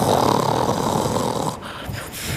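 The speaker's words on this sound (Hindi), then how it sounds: "कौवा खर्राटे लेने लगता है" A cartoon crow snores in a children's animated story, a continuous rasping, rumbling snore that stays loud and close throughout.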